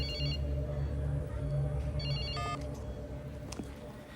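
A telephone rings inside a room in a dark crime drama, its repeated electronic trill steady and moderately loud over a low background hum, with no one speaking.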